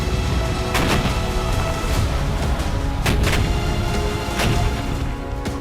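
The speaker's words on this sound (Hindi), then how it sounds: "अब वीरान शहर में बस धमाकों की गूंज है" Explosions echo through the deserted, burning city of Bakhmut in the Russia-Ukraine war, a dense unbroken roar of blasts with several sharper booms standing out near one and three seconds, continuous and loud with no talking.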